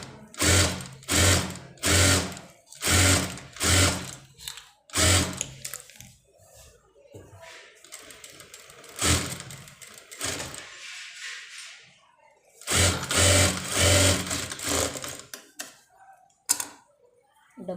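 A domestic sewing machine runs in repeated short bursts of fast rattling stitches as it sews a double seam on the sleeve of a dress made from an old saree, pausing between runs and then running longer near the end.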